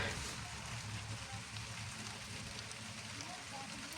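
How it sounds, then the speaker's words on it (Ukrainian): Light rain starting to fall patters steadily on a garden, a soft, even hiss of drops with no break throughout. "Але почав крапати дощ."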